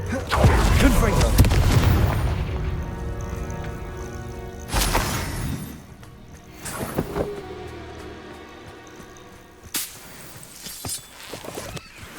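A Confringo fire spell explodes in the Hogwarts Legacy video game: loud booming blasts, with a heavy opening burst, another sharp bang near five seconds and a third near ten, amid game sound effects and spoken lines.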